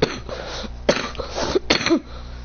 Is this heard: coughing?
yes